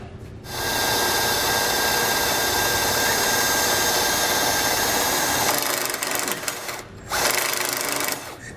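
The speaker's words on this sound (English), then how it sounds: "we can take our hoses back off so we don't damage them while we're putting our self-tapper in." Power tool whirring steadily as a self-tapping screw is driven into a single-axle trailer frame, a loud continuous drone that eases off, pauses briefly, then resumes, close by with no talking.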